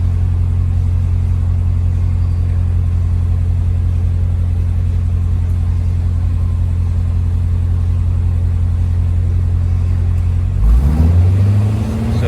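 An Audi RS7 with a loud aftermarket exhaust idles with its valves open, a deep steady droning rumble up close, then a short rising rev swells near the end.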